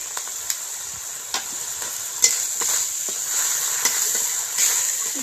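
Taro sizzles in a pan with turmeric and salt, a continuous frying hiss broken by intermittent scrapes and clicks of stirring, close and steady throughout.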